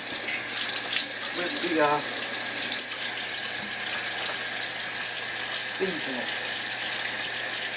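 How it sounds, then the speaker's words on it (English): A tap runs steadily while someone washes their hands under it, a constant close splashing hiss with brief voices speaking over the water. "let me wash my hands real quick"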